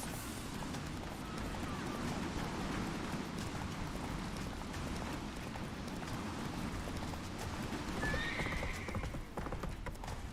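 Roach, the horse in The Witcher 3, gallops with a continuous rapid clatter of hooves. The pounding is dense and steady throughout, with a brief whinny-like cry near the end.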